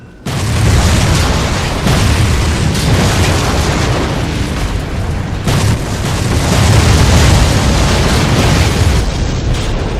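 A massive, roaring video game explosion of 100,000 gallons of rocket fuel erupts and keeps rumbling for several seconds, a dense wall of booming low noise with crackling bursts, loud and close.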